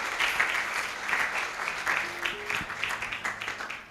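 A church congregation at a Sunday service breaks into sustained applause, a thick wash of clapping hands that rolls on for several seconds in a reverberant hall.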